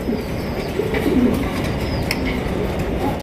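Large white pigeons at a pigeon market murmur in low, continuous cooing beneath a busy ambient din, with faint chirps scattered through the steady background.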